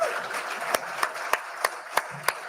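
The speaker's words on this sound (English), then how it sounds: "You should be clapping now." Slow, evenly spaced claps ring out at a Libertarian presidential forum, about six distinct sharp hits over a low crowd murmur, sounding like a few people clapping rather than full applause.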